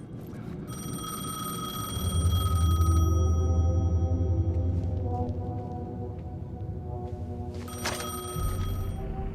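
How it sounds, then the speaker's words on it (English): A payphone in the game Alan Wake rings with a steady electronic bell tone, loud and close, sustaining across several seconds over a low rumbling ambience, with no talking. "The payphone was ringing."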